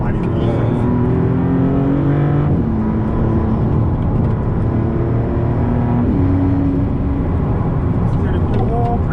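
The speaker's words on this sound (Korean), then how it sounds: "부스 더 많이 쓰기 때문에 부스 빠지는 소리도 더 많이 들리실 수 있어요." Maserati MC20 engine under hard acceleration on a racetrack, heard steadily from close by, with repeated gear shifts and turbo boost releasing between them.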